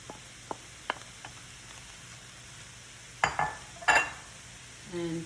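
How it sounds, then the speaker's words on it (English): Shredded cabbage drops into a hot pan with a soft scrape and sizzle, followed by a few stirring clinks against the pan, close and fairly quiet, with no talk. "Now we're going to add the cabbage."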